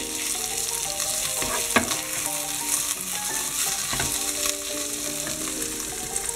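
Bell pepper and onion sizzle steadily in a pan while being stirred, a constant close frying hiss with occasional scraping, for a Tex-Mex dish.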